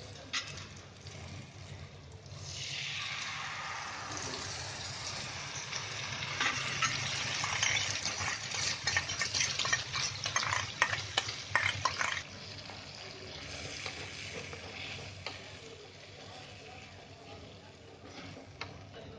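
Set curd poured into a little hot oil tempered with chillies for a Maharashtrian okra curd gravy, building into a bubbling, spattering sizzle that swells in the middle then settles to a quieter hiss.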